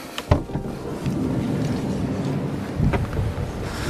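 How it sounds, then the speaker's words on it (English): Strong wind blows outdoors at a campervan park-up in Ireland, buffeting the microphone with loud, rough gusts and low rumbles, with no talking. "It's windy as heck."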